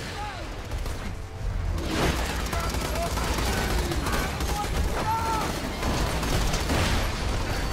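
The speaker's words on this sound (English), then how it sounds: "Where's that guy shooting?" Gunfire in the video game Borderlands 2, rapid bursts of shots with clattering impacts over busy game noise, continuing steadily throughout.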